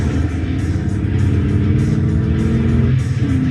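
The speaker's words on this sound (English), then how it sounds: "I know you can hear that engine" A car engine drones loudly and close, its pitch shifting up and down as it revs steadily throughout.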